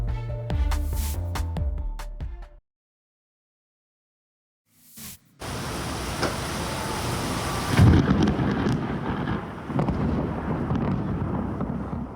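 Thunderstorm in southern British Columbia, with steady heavy rain and loud rolling thunder, one crack peaking near the end; a brief silence splits the opening burst from the continuous downpour.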